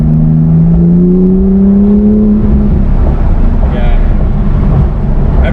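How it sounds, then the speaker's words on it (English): A 2018 Porsche GT2 RS in manual mode blips its engine on a downshift, a loud close rising drone that swells and then falls away into road rumble and cabin noise. "I'm just going to downshift a little"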